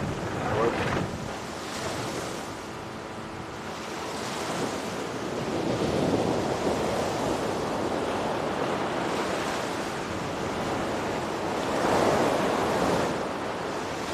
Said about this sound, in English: You have to watch the waves.